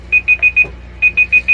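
Alarm beeping in rapid bursts, two groups of four sharp high electronic beeps, loud and close with no talk over them.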